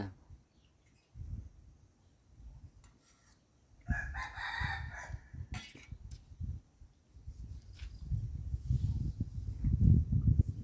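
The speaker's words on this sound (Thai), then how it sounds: "เลี้ยงไก่ไว้เยอะ" Roosters crow repeatedly at a rural home where many chickens are kept, with scattered clucking from nearby hens between the calls.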